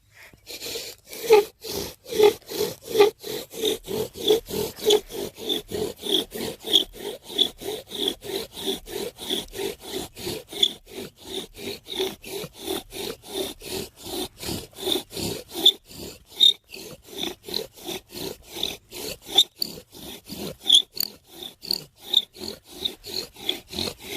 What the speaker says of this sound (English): now I'm bow drilling to gather this little powder that falls through the hole